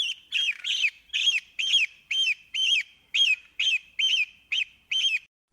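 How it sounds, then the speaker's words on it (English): An eagle repeats a sharp, high call in a rapid, even series of about a dozen piercing notes, loud and close, with no voices. "Eagle."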